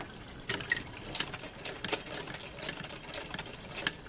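A sewing machine runs in short repeated bursts, stitching a retaining strap for a West German mess kit, with quick pauses and clicks between passes, close by and fairly quiet.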